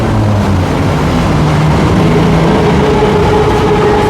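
A Bangkok Skytrain rumbles past near the MBK skywalk, a loud steady roar of rail traffic filling the whole stretch with no voices.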